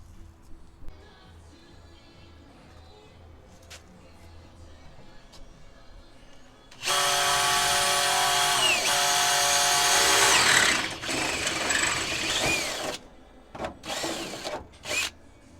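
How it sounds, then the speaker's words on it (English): A power drill bores holes to bolt a new seat into an M35A2 military truck, starting after quiet handling noises with a loud sustained whine for about four seconds, then short bursts and clunks. "come back with a drill, drill some holes in there, bolt them down"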